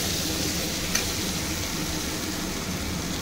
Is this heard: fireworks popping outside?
no